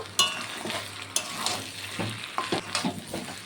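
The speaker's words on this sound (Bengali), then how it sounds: "এখন আমি ভেজে রাখা আলুটি দিয়ে দেব। আলুটিকে দিয়েও একটু রান্না করে নেব।" Fried potatoes added to mutton in a hot oily pan sizzle softly, with a low hum underneath and several sharp stirring scrapes and clinks of a utensil against the pan.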